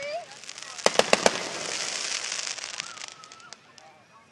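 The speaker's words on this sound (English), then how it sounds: "Another firework." Several sharp firework bangs burst in quick succession outdoors, followed by crackling and distant pops, with voices faintly in the background.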